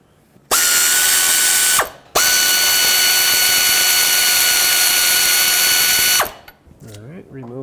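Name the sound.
ratchet breaking free alternator bolt on Toyota Sequoia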